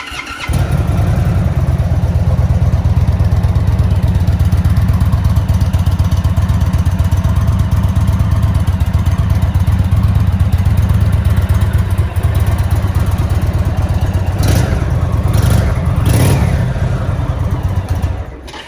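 A stock-exhaust 2022 Indian Super Chief Limited motorcycle fires up and settles into a loud, steady, low lumpy idle, followed by a few short blips of revving near the end before shutting off.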